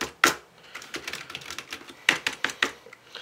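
Soft, irregular clacking of keys typed on a Logitech MK220 wireless non-mechanical keyboard, close up, with a few sharper taps standing out.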